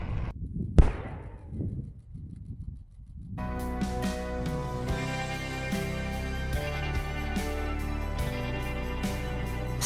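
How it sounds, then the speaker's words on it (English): A buried artillery shell from a Second World War German dugout is detonated in a deep pit, giving one sharp loud blast that rumbles away, followed by music. "Then the shell was mined and detonated."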